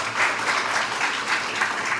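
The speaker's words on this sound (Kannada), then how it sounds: "ಅವ್ರಿಗೋಸ್ಕರ ಒಂದು ಜೋರಾದ ಚಪ್ಪಾಳೆ" Audience applause at a public event in Chikkaballapur for free CET and NEET coaching, a dense steady clatter of many hands clapping together without letup for the full two seconds.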